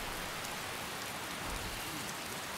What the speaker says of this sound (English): And it looks like it's still raining.